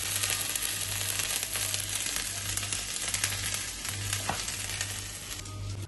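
Ginger paste fries in hot oil in a pan, giving a steady loud sizzle that runs throughout, with no talking.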